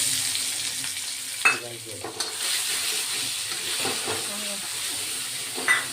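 Pre-fried spice mix and pointed gourd sizzling in a pan with a bay leaf, a continuous hiss broken by a few sharp scraping stirs and clinks, close and fairly loud.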